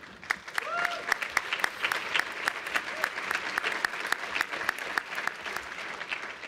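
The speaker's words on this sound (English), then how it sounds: "I was just about to invite conference to clap and show their appreciation too, but conference is ahead of me." Applause from the audience at the NAHT annual conference in 2023: steady clapping from a large hall with sharp individual claps standing out, and a voice briefly heard over it.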